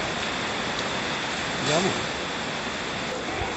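Floodwater rushes through a street during a sudden torrential rainstorm, a steady broad wash of pouring water under faint, brief talk.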